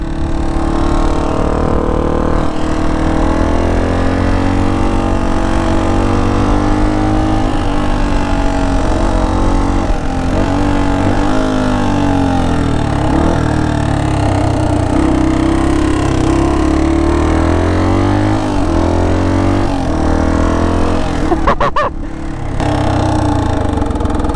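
Forty-year-old Honda dual sport motorcycle ridden on a trail, its engine loud and close throughout, revving up and down with shifting pitch and a brief dip near the end, no talking.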